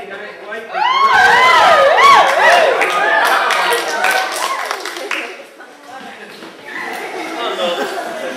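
A lively crowd cheers and whoops with rising shouts and claps, loud and close, voices overlapping and gradually settling toward the end.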